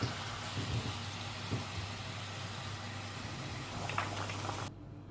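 Potato pakoras fry in hot oil with a soft, steady bubbling sizzle, quiet and even until it cuts off near the end.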